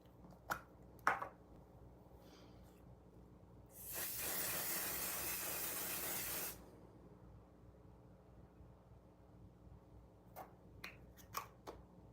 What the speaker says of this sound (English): Let's put a little bit of setting spray on there.